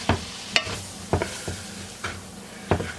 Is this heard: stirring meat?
yes